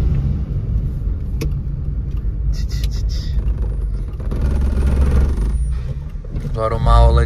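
A 1996 Chevrolet Kadett 1.8 EFI car engine running, a loud steady low rumble that swells slightly toward the end, with a voice speaking briefly over it.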